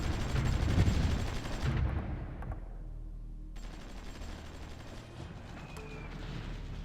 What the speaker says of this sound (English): They're actually bombarding us.